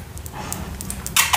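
A dog pants close by in quick, breathy bursts over steady background noise.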